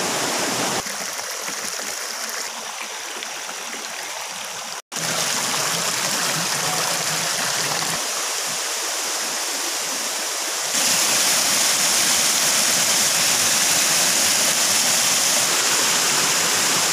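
Buan River water flowing steadily over flat bedrock, a loud continuous rushing wash that stays constant and grows slightly brighter and stronger partway through, close up with no voices.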